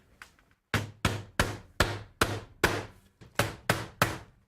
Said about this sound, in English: Now I just nail it in place.